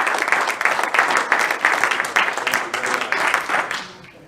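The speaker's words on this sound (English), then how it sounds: "Big round of applause." A close, loud burst of audience clapping at a Rotary Club student recognition gathering, uneven hand claps pulsing steadily for about four seconds before fading out quickly.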